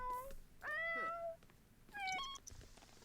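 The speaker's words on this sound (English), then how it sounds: "little cat noise" Two short, clear meows from a cat in a video game, close and distinct, separated by a pause, with quiet ambient background and no talking.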